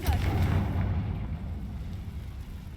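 Casting the Confringo spell in Hogwarts Legacy sets off a deep rumbling explosive boom that starts loud and rolls away over a couple of seconds.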